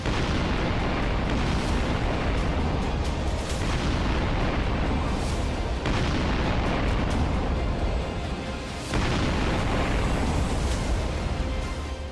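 Russian missile strikes pound Ukraine, including Mariupol: a dense, continuous roar of heavy blasts and rumbling booms, loud and sustained, with repeated sharper bursts breaking through the din.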